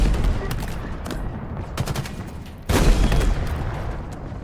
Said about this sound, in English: I picked up the tank gun, which is kind of the scarab gun of this game.